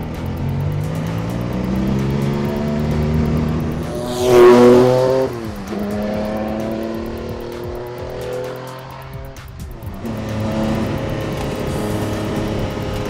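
A loud Le Mans-winning Porsche 962 race car engine revs hard and climbs in pitch, a sharp surge midway, then drops through gear changes and climbs again, heard from inside the car.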